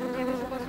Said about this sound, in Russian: Тысячи пчел, жужжа в унисон, собирают с медоносов сладкий нектар.